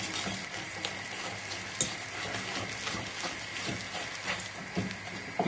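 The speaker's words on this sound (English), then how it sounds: "slowly add in the milk, so just a little bit at a time, and give it a good whisk together" Milk is whisked into pancake batter in a bowl, a soft, continuous wet scraping and swishing with faint clicks of the whisk, close and quiet.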